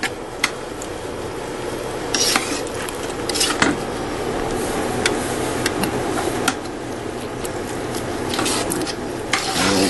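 A spoon stirs three cups of sugar into homemade applesauce in a pot, scraping and clinking against the metal in a steady, close rhythm with occasional sharper knocks and no talking.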